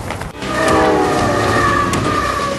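The T-27 passenger train from Beijing to Lhasa running across the Tibetan Plateau, a loud steady rumble of rolling wagons with sustained horn-like tones rising after a brief dip at the start.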